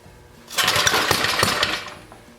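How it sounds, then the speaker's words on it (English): A small engine on a 1953 reel lawn mower sputters and chugs briefly while failing to start, a rapid rattling burst lasting under two seconds before dying down. "I can't get that stupid lawnmower started."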